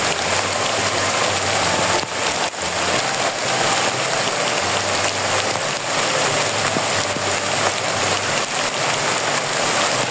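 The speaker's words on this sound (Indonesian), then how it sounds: "Ini udah basah karena hujan teman-teman." Heavy rain pours on and around a house with a dense, constant patter and hiss, loud and close, with a few brief sharper knocks in the steady downpour.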